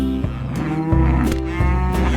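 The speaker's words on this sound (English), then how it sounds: "Mooing pride was loud and clear." A cartoon cow lets out loud, close, drawn-out moos in an animated nursery rhyme, sounding over a musical backing.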